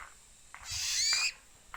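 An owl calls once, a drawn-out hooting cry that rises and holds before cutting off, fairly faint and alone, with faint rustling before and after.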